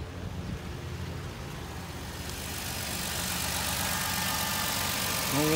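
The engine of a 2008 Dodge Caravan idles at start-up with an unsteady idle: a continuous close engine drone that slowly grows louder, heard alone without talk.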